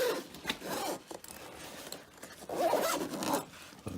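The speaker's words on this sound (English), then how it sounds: "I'm going to zip this up." The zipper on a K&F Concept camera backpack is pulled shut in two steady, rasping strokes, close and clear with no speech.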